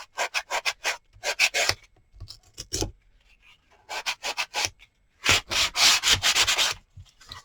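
A sanding block is rubbed back and forth in quick rhythmic strokes, heard close up and clear in several bursts separated by short pauses.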